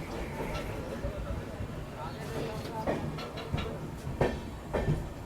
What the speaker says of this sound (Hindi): अपनी ट्रेन निकल चुकी है आसनसोल जंक्शन रेलवे स्टेशन से